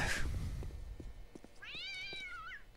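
Cat meowing in a survival video game, a single clear, drawn-out meow near the end, preceded by faint thumps and clicks in a quiet scene.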